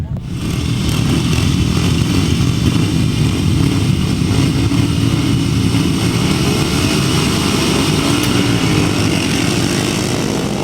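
500cc grasstrack sidecar motorcycles circle on a lap of honour at a 2007 Tallington grasstrack meeting, their engines a loud, steady, unbroken drone for the whole stretch, with a voice faintly present beneath the noise.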